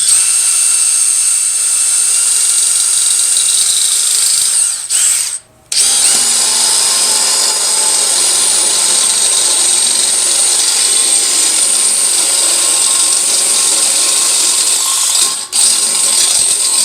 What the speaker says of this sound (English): the first thing I'm gonna do is I'm gonna drill a hole in this